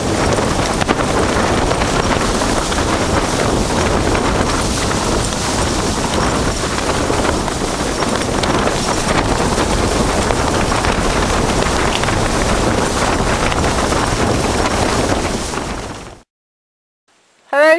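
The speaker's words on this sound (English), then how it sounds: "It's really sunny today, but it's really windy. We've not had it this windy before." Strong wind in Antarctica roars and buffets steadily for about sixteen seconds, loud broadband gusting against the microphone with no pause, then cuts off abruptly.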